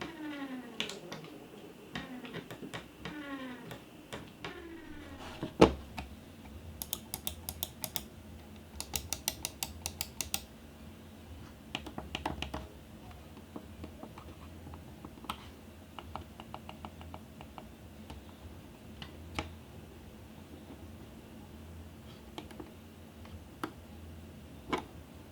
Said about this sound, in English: They managed to produce a hyper fast scroll wheel